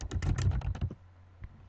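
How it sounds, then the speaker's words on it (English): Rapid keystrokes clatter on a computer keyboard in a quick, close burst that stops after about a second, followed by one lone tap. "you start typing"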